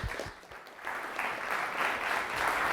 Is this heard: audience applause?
yes